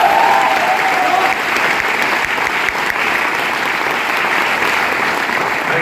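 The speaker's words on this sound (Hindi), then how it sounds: "थैंक यू सो मच आपकी तालियों के लिए" An audience at a Vestige direct-selling company event claps loudly and continuously, a dense sustained applause filling the room.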